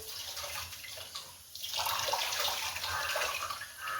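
Water runs and splashes steadily as clay pots are rinsed and washed close by, with a brief dip before the splashing swells again.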